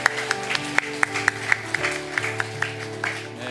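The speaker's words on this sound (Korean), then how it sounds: "우리 다시 한 번 더 감사와 축복의 박수 서로에게 보냅니다." A church congregation at a Sunday service claps in a steady, even rhythm over sustained background music. The claps are moderately loud and regularly spaced.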